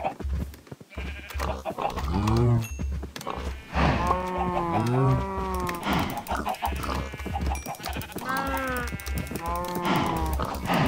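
Cows moo repeatedly in the video game Minecraft, drawn-out bellowing calls overlapping near and clear, mixed with someone talking and a rhythmic low thumping underneath.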